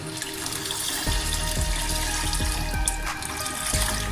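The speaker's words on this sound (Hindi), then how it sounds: "और ये हम इसके अंदर 4 पैकेट दूध डालेंगे इसमें" Packets of milk poured into a pot for vermicelli kheer: a steady liquid gush and splash, with gurgling bursts as the stream shifts, close and continuous with no talking.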